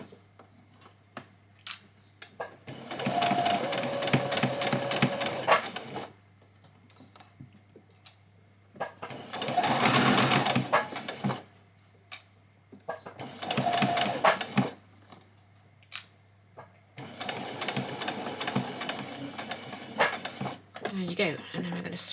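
A sewing machine stitching a child's dress whirs in four separate bursts of rapid, steady mechanical chatter, close and clear, with quiet pauses between them.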